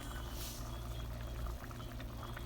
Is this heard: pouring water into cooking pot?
yes